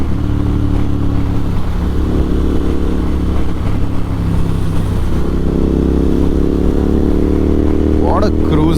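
A Royal Enfield Interceptor 650 motorcycle cruises along a road, its engine a loud, steady, low drone with wind rush throughout and a slight rise in pitch near the end.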